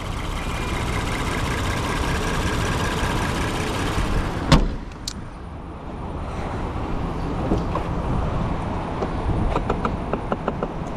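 A Ford Police Interceptor Utility with the 3.0 liter EcoBoost engine idles steadily up close, a sharp click cutting in briefly partway through over the even, low rumble.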